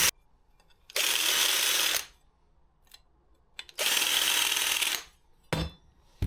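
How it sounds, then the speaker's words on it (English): A power deburring tool working freshly drilled holes in a metal fuel tank bracket for a Honda C90 170cc, two loud harsh whirring bursts of about a second each with short bits between, otherwise quiet. "That's all the holes drilled, so just going to give them a nice deburr."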